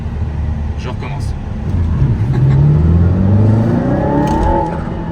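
An Aston Martin Valhalla hypercar pulls away hard in second gear, its engine note rising steeply in a climbing whine, with a voice talking over it.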